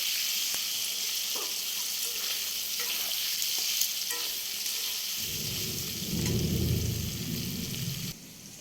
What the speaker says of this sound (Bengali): মশলাগুলো দিয়ে একটু নুন দিয়ে সব কিছু দিয়ে একটু নাড়াচাড়া করে